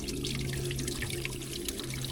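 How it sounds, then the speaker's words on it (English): Water splashes and trickles continuously, a steady pouring flow with a low hum underneath and no talking. "Just dumping the last of the water."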